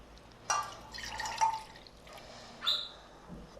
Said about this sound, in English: I'm just going to place my water, which I said was 1 cup.